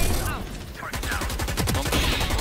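Rapid gunfire fills a video game match, with a continuous stream of close, sharp shots and automatic bursts layered over dense game noise.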